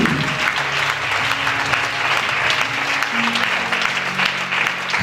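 A church congregation breaks into loud, sustained applause, with dense clapping filling the room throughout and a few faint voices underneath.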